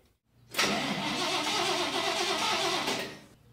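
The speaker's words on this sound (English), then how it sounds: "When we turn the lights on, the starter engages." A Dodge D100 pickup's starter motor engages, cranking in one steady sustained whir for about two and a half seconds before cutting off, close and fairly loud, with no talk.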